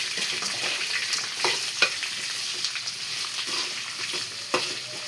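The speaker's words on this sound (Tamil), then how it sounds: "வெங்காயம் நல்லா ஆயிலில் ஃப்ரை ஆகட்டும்." Sliced onions fry in oil with peanuts in a pan, a continuous close sizzle broken by a few sharp stirring clicks and scrapes, with no voices.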